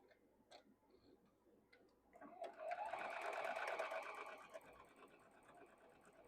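A sewing machine stitches quilt blocks together, running in a steady, moderately loud burst through the middle before easing off, with faint ticking around it.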